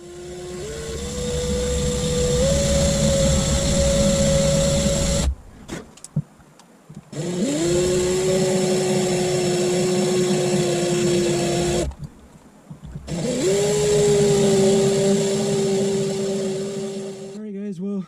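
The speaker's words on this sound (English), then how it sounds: "what I'm going to try to do now is I'm going to try to drill that grub screw out" An electric drill boring out a grub screw on an RC motor mount for a WLtoys 144001, a loud close whine rising in pitch as it spins up, running in three long bursts with brief pauses.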